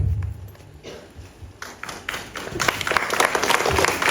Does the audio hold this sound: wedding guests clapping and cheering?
yes